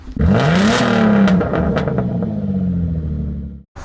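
A Nissan G35 with Berk resonated test pipes roars past up close, its exhaust note climbing as it approaches, then dropping and fading away as it recedes.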